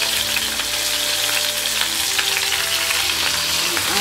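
Pork belly half-fries in a pan with a loud, continuous sizzle and crackling hiss, close up, with no talking.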